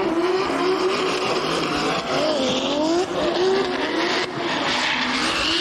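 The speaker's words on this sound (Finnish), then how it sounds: "Koskela, Jokinen ja autot liikkeellä." Drift cars at Venetsia Drift 2021 race along the track. Engines wail loudly and continuously, rising and falling in pitch as they rev and slide, and tires squeal against the asphalt.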